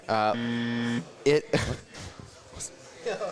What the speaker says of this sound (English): Did you just buzzer me?